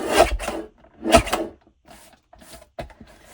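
Two sharp rasping cuts through stiff card with a paper guillotine cutter, close by, followed by a few softer scraping strokes and brief clicks.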